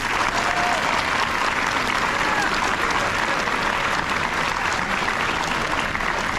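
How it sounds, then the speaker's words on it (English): A full audience claps at a middle school eighth grade awards ceremony, a thick, even wash of applause holding at the same loudness throughout. "Another round of applause for these awesome kids."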